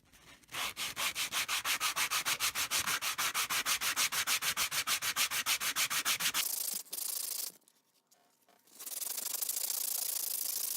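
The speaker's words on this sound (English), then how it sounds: "what you see here is flexible sandpaper" A knife blade filed from a file is worked with flexible sandpaper in steady rapid back-and-forth strokes, a dense rhythmic scratching up close that stops briefly near the end before resuming as a continuous rub.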